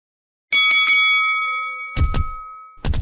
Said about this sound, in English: a bell for when the game starts